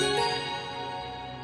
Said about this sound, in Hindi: तो उसके गले की घंटी टन टन टन बजने लगे